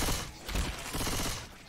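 Quick burst of gunfire in the zombie shooter Left 4 Dead 2, several rapid overlapping shots packed into under two seconds, loud and close with no talking.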